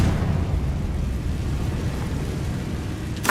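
A Confringo blasting spell explodes in Hogwarts Legacy, a loud rumbling blast that rolls on steadily for several seconds and ends with a brief sharp burst, with no talking.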